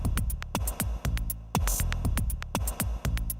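A programmed electronic drum beat, a factory preset from the Playbeat app on iPad, plays steadily, punchy kicks and crisp hi-hats repeating in a tight loop, loud and clear with no voices.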